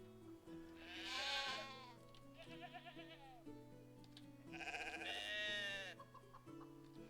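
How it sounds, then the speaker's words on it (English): Sheep in the Medieval Dynasty game bleat several times, two long wavering bleats standing out over a low, stepping background melody, fairly close and clear, without talk. "Let's get the sheep and the chickens."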